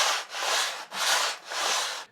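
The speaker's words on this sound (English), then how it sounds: "over to my spindle sander where I will finesse it and make it as nice as I can" A spindle sander shapes a walnut pattern in three steady passes, each a close, hissing rasp of wood on abrasive with brief dips between strokes.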